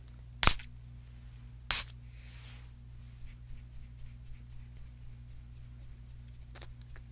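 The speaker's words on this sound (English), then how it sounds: "let me spray this so you can see what this smells like" A perfume bottle being sprayed during a quiet, close-miked ASMR perfume consultation: two sharp clicks of the pump, then a brief soft hiss of mist, with near-silence around them.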